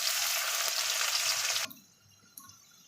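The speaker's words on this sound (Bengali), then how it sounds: "এবার পেঁয়াজটা একটু লাল লাল করে ভেজে নেব।" Chopped onions sizzle loudly in a hot pan for the first second and a half and then cut off sharply, leaving only faint kitchen noise and one small clink.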